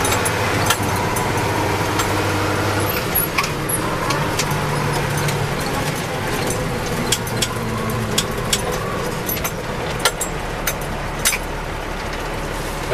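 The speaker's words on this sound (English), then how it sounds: "That's double clutch upshifting." Heavy truck engine running steadily with rising and falling revs through double-clutch upshifts, a continuous loud drone with brief dips between gears and no talk over it.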